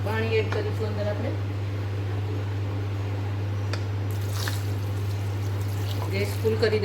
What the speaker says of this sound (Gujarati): પાણી એડ કરીશું અંદર આપણે.